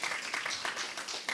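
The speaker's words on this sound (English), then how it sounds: "Let's have a round of applause for our host, Dawn, and everyone here." A crowd at a community summit giving a round of applause for the host, a short burst of dense clapping from many hands, fairly close and lively.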